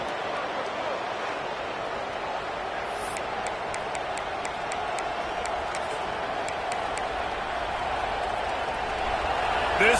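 Stadium crowd at a college football game with Arkansas State on offense, a steady broad roar of many voices throughout, with a commentator talking over it.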